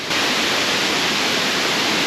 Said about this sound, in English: I managed to cross over and get up near this cool waterfall.